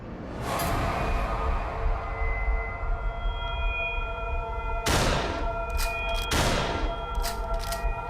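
Gunfire in an Oculus Rift VR game: two sharp, loud synthetic shot bursts with ringing tails over steady, droning game music and tones.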